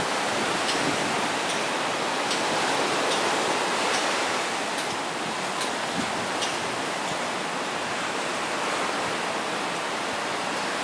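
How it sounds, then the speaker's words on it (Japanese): Surf at Hikkaduwa beach in Sri Lanka, a well-known surfing spot with a coral reef, roars steadily as a dense, continuous wash of breaking waves with faint crackling hiss and no voices. "波ですね。"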